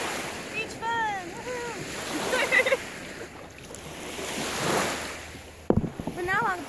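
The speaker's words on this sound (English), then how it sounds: "But now I've brought you guys to the beach." At a beach, wind buffets the microphone over a washing roar of ocean surf, with a sharp bump near the end. Voices and high squeals briefly break through.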